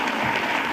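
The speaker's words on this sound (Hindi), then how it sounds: "एक बार ताली तो बजाए गुप्ता जी के लिए।" Audience clapping fills a hall during a construction workers' gathering, a steady dense burst of applause with no pause.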